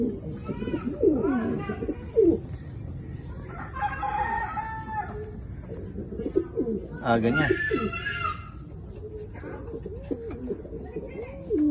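Racing pigeons coo at the loft during a north race, with soft repeated cooing over rustling. A rooster crows several times in the background, and someone speaks briefly.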